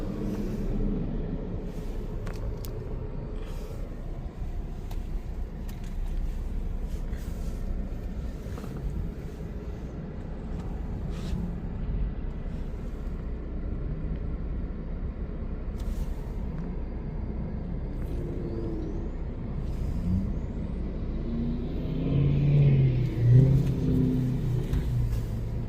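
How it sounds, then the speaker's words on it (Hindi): Evening street traffic in Houston, a continuous low rumble of passing cars with engines swelling and fading at a distance, growing slightly heavier near the end, with no talking. "शाम का टाइम है, थोड़ा सा ट्रैफिक जो है ज़्यादा होता है इस वक्त।"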